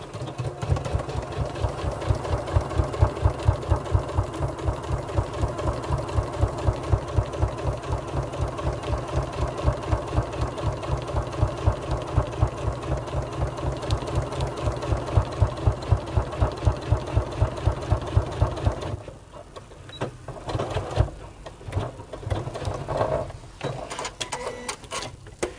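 A sewing machine runs a steady, fast, even stitching rhythm, set to stitch length 3.5 and sewing in reverse, then stops and gives way to a few scattered handling clicks.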